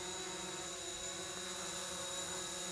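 A small drone flies toward people inside a workshop, its propellers giving a steady, high whine that stays constant throughout.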